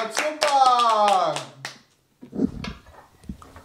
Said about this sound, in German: Die Waschmaschine muss ich noch klatschen.